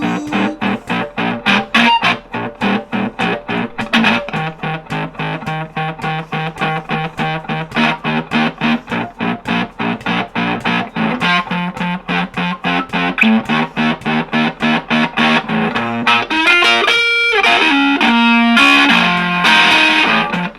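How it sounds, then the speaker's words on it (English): Heavily distorted electric guitar plays a rhythmic riff of chopped chords, loud and close, with a busier, more sustained passage near the end; no voices. "that sounds good with the distortion. Let's turn it on."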